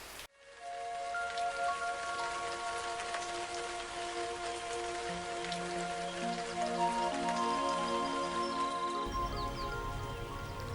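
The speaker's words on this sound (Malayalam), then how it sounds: "മുറ്റത്ത് പെയ്യുന്ന മഴയിലേക്ക് നോക്കി നിൽക്കുമ്പോൾ" Rain falling in a courtyard, a steady close patter with drips on hard surfaces, accompanied by sustained tonal music throughout and no speech.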